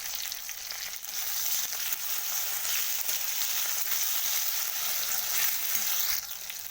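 Ginger-garlic paste sizzles steadily in a hot pan for an egg curry, a dense continuous frying hiss with faint stirring, no voices.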